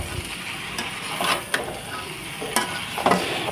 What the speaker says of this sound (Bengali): এখানে আলু ফুলকপি আমি আরও 5 থেকে 10 মিনিটের মতো কষিয়ে নিব